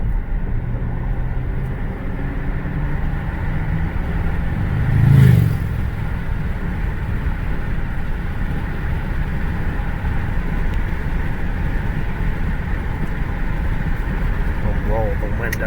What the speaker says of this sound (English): I think you can hear the engine better with the windows up than down.